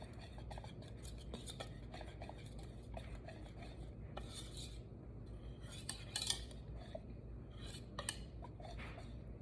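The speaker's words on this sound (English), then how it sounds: "I'm going to use a whisk to stir that together" A whisk stirs vanilla extract into sweetened condensed milk in a bowl for homemade no-churn ice cream, giving soft, close, repeated scraping and clinking strokes in an uneven rhythm.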